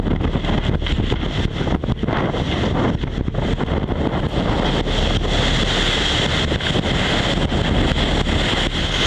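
Strong 25 to 30 knot wind roars at sea aboard the racing trimaran Banque Populaire V, a loud unbroken buffeting rush over the microphone mixed with hull and wave wash, no voices.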